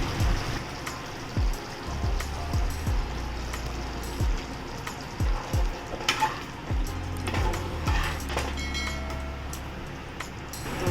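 Black-eyed pea usal simmers in a pan after a little water is added, giving a soft steady bubbling with repeated low knocks and stirring scrapes from a spoon against the pan.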